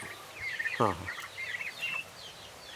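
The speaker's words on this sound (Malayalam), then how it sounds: "ഇത് ടർക്കിയാണ്." A single turkey call with a quick descending warble, a gobble, over faint outdoor background noise and soft chirps.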